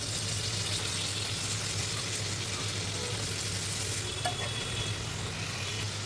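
Cut pieces go into a hot pan already seasoned with masala and green chillies, giving a steady, close, dense sizzle that holds without pause throughout.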